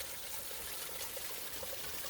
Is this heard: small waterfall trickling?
yes